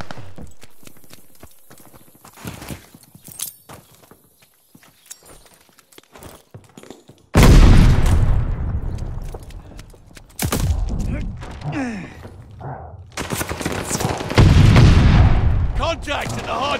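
Video game battle at a hard point, with sharp bursts of gunfire and explosions, quiet at first and then loud, dense firing over the latter half, with game voice announcements.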